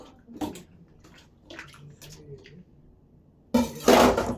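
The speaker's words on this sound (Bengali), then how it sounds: "গরম জল দিয়ে একটু ধুতে হয়" Dried fish is washed with hot water in a kitchen: a few quiet clinks and light handling come first, then a sudden loud rush of splashing water near the end.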